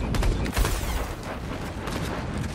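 Gunfire in the video game Fortnite rings out as a rapid, dense string of sharp shots and bursts, fairly loud and continuous, with no one talking.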